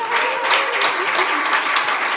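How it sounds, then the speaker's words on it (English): An audience at a music co-operative launch gives Mel and Harry a steady round of applause, a dense wash of many hands clapping continuously throughout. "Oh, Mel and Harry, everybody, round of applause."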